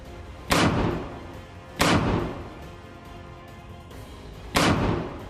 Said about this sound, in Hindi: मुस्तफा ब्रिगेड के लड़ाके आईडीएफ पर 60 mm कैलिबर मोटर गोले फायर कर रहे हैं